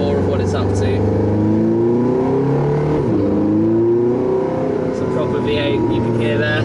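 Porsche 918 Spyder hybrid supercar's V8 engine revs loudly from inside the cabin while driving in traffic, a steady low drone with rising and falling pitch sweeps, speech present over it.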